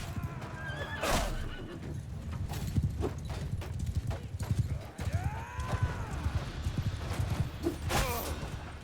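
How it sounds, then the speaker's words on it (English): Horses neigh and whinny in the video game Mount & Blade II Bannerlord, several loud whinnies rising over a steady rumble of hoofbeats, with clip-clop and battle noise in the background. "Horses, look in this direction, please."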